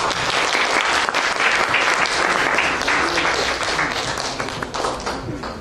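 A crowd at a cultural event, the Macabro 2012 festival, gives a hearty round of applause for a cultural centre coordinator, steady dense clapping from many people heard close and fairly loud throughout.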